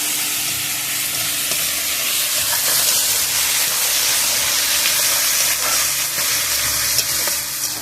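Chicken marinated in mustard oil and cumin powder fries loudly in a pan with ginger-garlic paste, a dense continuous hissing sizzle close up, with faint stirring scrapes underneath.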